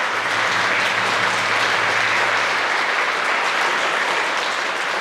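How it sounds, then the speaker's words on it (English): A crowd claps steadily for youth shawl dancers at a Lumbee Tribe cultural presentation, dense continuous applause with a faint low hum underneath. "Let's give them a round of applause, everybody."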